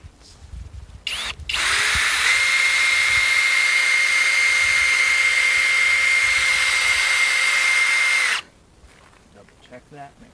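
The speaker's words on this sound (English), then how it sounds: "So continue drilling it very straight in now." A power drill bores a bolt hole into the rear cover of a mini excavator, running loud and steady for about seven seconds after a brief start, then stopping into quiet.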